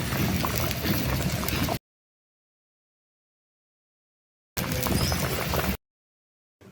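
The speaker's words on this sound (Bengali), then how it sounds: "এবার শুধু ভালো করে এটা ফুটিয়ে নিতে হবে।" Bengali sour fish curry, macher tok, made with fried fish, potato and jaggery, boils in a pan with a steady bubbling, hissing simmer, heard up close in two bursts separated by silence.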